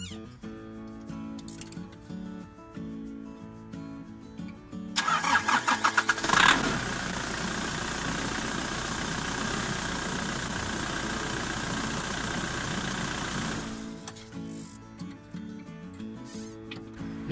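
A car engine cranks briefly, catches, and settles into a steady idle for several seconds before cutting off, with background music playing throughout.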